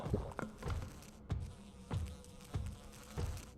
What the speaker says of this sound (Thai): แมลงวันเหรอ